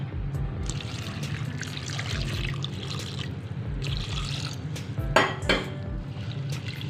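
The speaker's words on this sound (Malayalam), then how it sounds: "വെള്ളം ഒഴിക്കാം നമുക്ക്" Water pours into a cooking pot for a pumpkin curry with a soft trickle, under a steady low hum, and a few sharp metallic clinks of the pot follow near the end.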